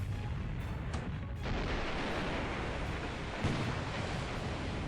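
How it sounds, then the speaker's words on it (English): Naval gunfire from destroyers in the War in the Pacific: Admiral's Edition strategy game, dense rumbling booms layered into a continuous loud roar, with a few sharper blasts standing out. "Actually pretty accurate gunnery this time around."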